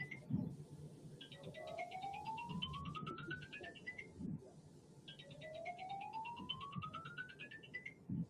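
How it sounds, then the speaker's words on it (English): A mobile phone rings inside a room, an electronic melody of rising tones repeating twice, fairly faint, with faint background noise and brief knocks. "hear this phone ringing in here?"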